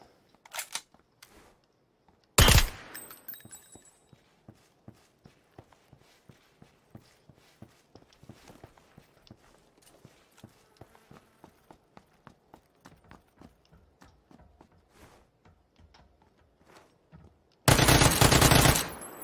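Gunfire in a video game: two loud bursts stand out near the start and at the end, with a long run of quieter, evenly spaced clicks and shots in between.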